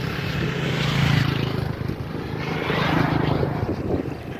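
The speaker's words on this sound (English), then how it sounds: "Motorbike." A motorbike engine roars loud and close in Kenya, a steady broad drone swelling and easing as it passes, with no talk.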